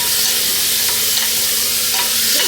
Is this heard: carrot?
yes